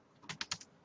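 A search is typed into Google on a computer keyboard, as three or four quick, faint key taps close by, with no talking.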